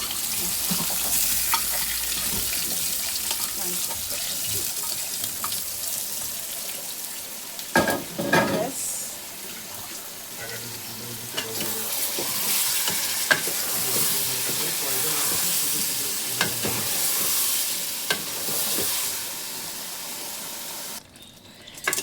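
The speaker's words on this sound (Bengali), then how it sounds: "এখন আবার একটু নেড়ে চেড়ে নিচ্ছি" Chicken biryani in a pot with yogurt and fried potatoes is stirred over steady frying sizzle. Scraping spoon strokes sound close, a few louder clatters come partway through, and a faint voice briefly mixes in.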